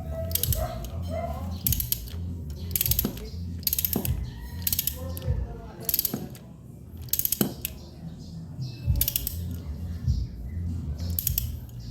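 A hand ratchet tightens the oil drain bolt on a Suzuki Raider 150 motorcycle, giving repeated close, loud bursts of clicking in an uneven rhythm with short pauses between strokes.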